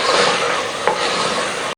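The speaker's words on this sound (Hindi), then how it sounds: "इसको 1 या 2 मिनट हमने भूनना है" Onions and minced meat being stirred and fried together in a pan for an aloo qeema dish, giving a steady close hiss of sizzling with one brief scrape of the spoon partway through, no voices.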